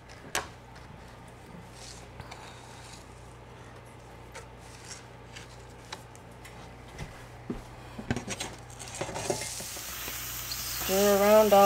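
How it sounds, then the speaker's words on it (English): Chopped onion and garlic sizzling in a pan for stuffed quahogs, stirred with intermittent utensil clinks and scrapes over a steady fry that grows louder and busier toward the end, close by with no talking. "Stir around all of our onion, garlic"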